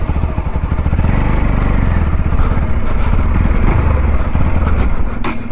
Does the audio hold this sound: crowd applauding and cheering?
no